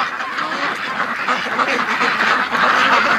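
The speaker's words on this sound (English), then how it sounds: "this Muscovy just can't help themselves. They got to get up on top of something." A group of Muscovy ducks quacks continuously nearby, with overlapping, raspy calls forming a dense, steady chorus.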